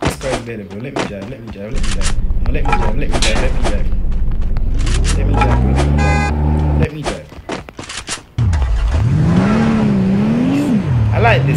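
A car engine in the video game Free Fire drones and revs as the vehicle is driven, with rising and falling pitch, sharp gunshot cracks in the game, and someone talking over the motor.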